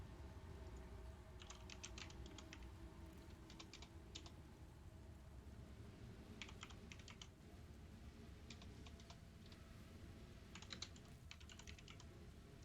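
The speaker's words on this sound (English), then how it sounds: "we'll just type it in" Bursts of typing on a computer keyboard, clicking in quick clustered runs with pauses between, fairly faint over a steady low background hum.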